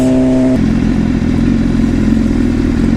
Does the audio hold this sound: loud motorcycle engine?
yes